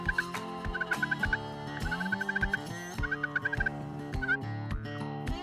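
A handheld turkey call mimics the soft, content rolling purr and clucks of feeding turkeys, a quick series of close, repeated notes played without talking.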